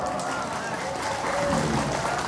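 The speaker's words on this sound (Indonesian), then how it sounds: "Tepuk tangan dong." Audience applause at an Islamic religious gathering, a steady dense wash of clapping lasting a couple of seconds with voices mixed in underneath.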